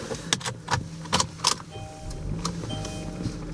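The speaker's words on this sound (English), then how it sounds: "So let me just start the car up for you." A 2020 Kia Optima starts up: a few clicks and short clunks come first, then a steady electronic chime tone sounds alongside a low engine hum.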